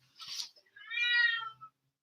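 A cat outdoors gives two meows in quick succession, a short breathy one followed by a longer, clearer, drawn-out meow, moderately close with no talking.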